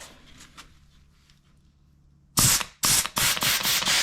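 A Chinese clutch release bearing is spun by hand, giving a few quick bursts of dry, rough whirring and rattling, close and fairly loud after a quiet opening.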